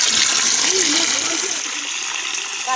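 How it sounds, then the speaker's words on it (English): Water pours steadily from a pipe with a hissing, splashing rush, a muffled voice briefly audible underneath. "Now people are be getting water from this pipe."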